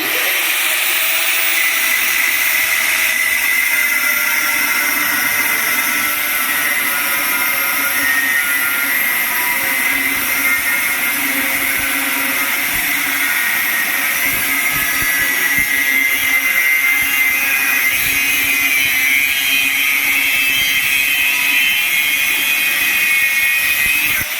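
Angle grinder cutting through cast iron pipe, a continuous harsh high-pitched whine with a grinding rasp that stays loud and steady throughout as the pipe is rotated.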